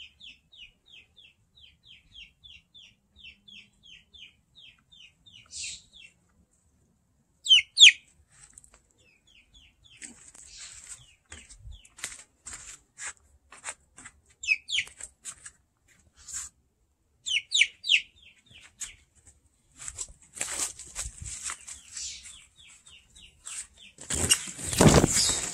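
Seven-week-old young chickens on their first outing cluck and squawk in bursts, with chirpy calls early on, wing flaps, and a loud flurry of noise near the end.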